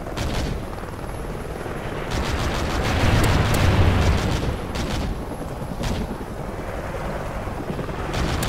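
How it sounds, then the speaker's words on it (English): A friendly helicopter in Call of Duty: Ghosts gives a steady, loud rotor drone for the whole stretch, with bursts of gunfire and distant blasts layered over it and no talk. "Friendly Helo pilot active."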